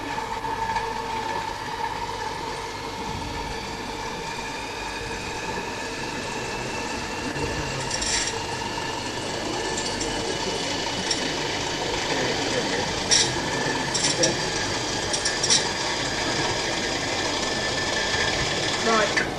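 A large heavy wheel spun up to roughly 2,000 revolutions per minute whirs steadily with a sustained tonal hum and faint mechanical rattle, a person speaking over it and occasional clicks near the end.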